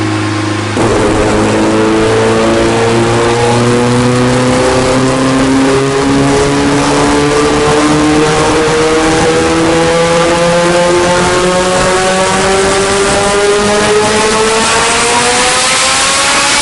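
A roughly thousand-horsepower turbocharged Mitsubishi Evo revs hard through a street pull, its engine note climbing steadily for many seconds, loud, close and unbroken, with a harsh turbo-exhaust roar.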